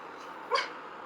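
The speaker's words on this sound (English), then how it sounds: "Oh, that's a dog." A dog lets out a single short whimpering grunt, faint and brief, against a quiet indoor background with no talk.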